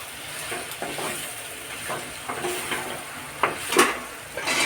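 Ridge gourd pieces are stirred in a frying pan, giving a steady sizzle with a series of scraping and clinking spatula strokes that get louder toward the end.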